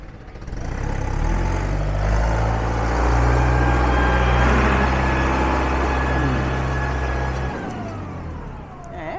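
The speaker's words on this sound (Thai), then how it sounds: "ไปฟังเสียงกันใกล้ ๆ กันดีกว่า โอ้ยเครื่องเ o าสา s t นี้มันแน่นอนจริง ๆ รถเก่านอกคันนี้" A Ford 6640 tractor with a 90 hp engine runs close by, a loud steady diesel rumble with a slight rise and fall in revs, its tone easing off near the end, with no one speaking.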